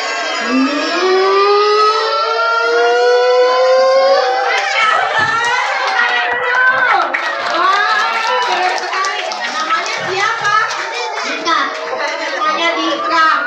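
Schoolchildren's voices wail a rising, sustained imitation of the Ramadan iftar siren, then break into overlapping excited shouting and chatter.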